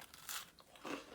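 Two quick crisp crunches as someone bites into a homemade chocolate chip cookie, close to the ear and brief, with no talking.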